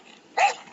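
A single short dog bark from the Metel Horror Escape video game, one clear burst standing alone against a quiet background.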